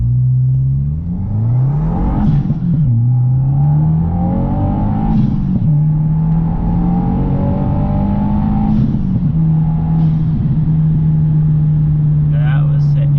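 Engine of a VB Subaru WRX on an E85 tune rising through several gears from a stop, pitch climbing then dropping at each shift, loud cabin drone with a turbo-like whoosh at the shifts and no talking.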